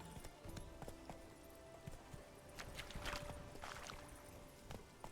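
Roach, a horse in The Witcher 3, gallops along with quick rhythmic hoofbeats that are fairly faint, while a brief snort or whinny rises over the pounding steps near the middle.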